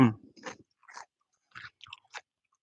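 Close, crisp crunching of a pickled onion being chewed, several distinct bites and crunches in uneven rhythm separated by brief silences.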